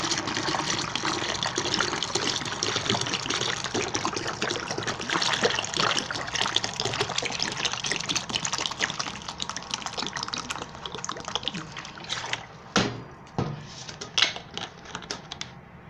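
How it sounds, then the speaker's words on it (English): Cold water trickles and splashes steadily into a cup of instant coffee for about twelve seconds, then breaks into a few short separate pours and drips near the end. "Then we add some water."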